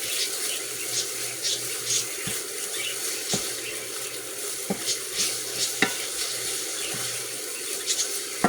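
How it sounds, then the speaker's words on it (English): Prime beef sautéing in a pan on a stovetop, a steady broadband sizzle with occasional stirring scrapes and light clicks throughout, fairly close and moderate in level, with no talking. "Just let that saute. Bring it down a little bit. Let that saute."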